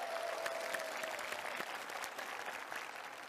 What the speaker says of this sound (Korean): 일단 여러분 호의한테 박수 한번 부탁드리겠습니다